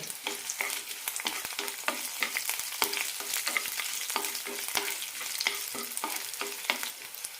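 Red chillies and garlic frying in oil for tomato garlic chutney make a constant bright sizzle, punctuated by frequent sharp clicks and scrapes of a spoon stirring the pan; no talking.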